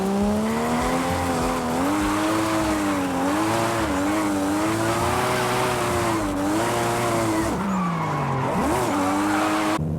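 A rear-wheel-drive car drifting in Forza Horizon 5, its engine revving hard and wavering as the tires spin and squeal continuously, loud and close for the whole stretch, with no talking.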